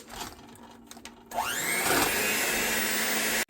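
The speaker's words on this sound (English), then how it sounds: "now we are going to add our white granulated sugar and we are going to continue mixing" Electric mixer beating butter and granulated sugar for a sweet tea pound cake, spinning up with a rising whine after a few soft clatters, then a loud steady motor drone that cuts off abruptly.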